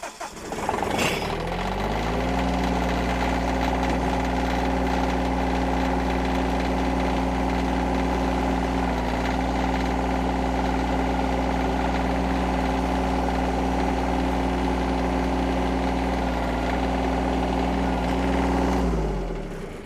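A compact tractor engine runs steadily at a low, throbbing idle-like rumble while its front loader is worked, revving slightly at the start and winding down at the end, with no talking.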